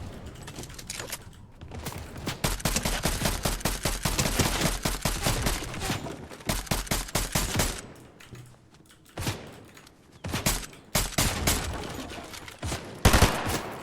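Rapid bursts of gunfire from a weapon in the video game Fortnite Battle Royale, sounding loud and close in dense volleys, pausing briefly around the middle before more shots resume.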